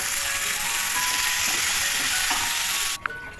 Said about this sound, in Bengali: এদিকে আমি আলু ফুলকপিটা ভেজে নিলাম।